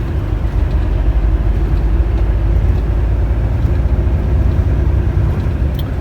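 Heard from inside the cab, a Volvo FH 540 truck with a dual-clutch gearbox pulls along a motorway in a heavy, steady drone of engine and road rumble.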